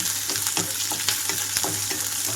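Chopped onions frying in a pan for buttermilk upma, a loud, close, crackling sizzle with rhythmic spatula scrapes and taps repeating every half second or so, with no talking.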